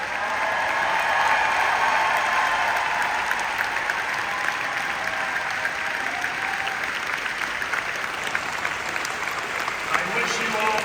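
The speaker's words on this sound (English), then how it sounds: "Let's give them another big round of applause." Audience applause fills a room at a community gathering, steady dense clapping sustained throughout, with some crowd noise and voices underneath.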